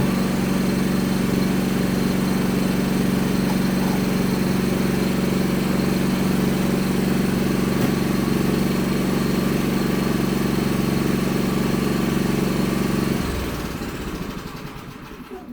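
A Philking PK4200 automatic generator engine runs at a loud steady drone, then winds down and stops near the end once mains power returns, leaving the sound fading away.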